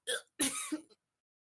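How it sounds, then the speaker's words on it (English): A cartoon bird's small, soft cough in two short bursts, the second trailing off with a little throaty catch; close and quiet, with nothing else around it. "they open their beak and like just sort of like a little cough comes out"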